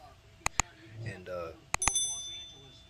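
A notification bell rings in two separate pairs of bright, quick dings, each with a short ringing tail, and a voice talks in the gap between the pairs.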